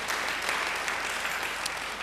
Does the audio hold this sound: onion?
no